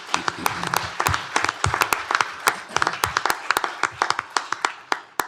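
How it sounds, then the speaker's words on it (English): Scattered applause at a county commissioners court session, a modest group clapping unevenly with distinct individual hand claps, fairly close and tapering toward the end, with no talk over it. "Let's give Judge Cosby a round of applause."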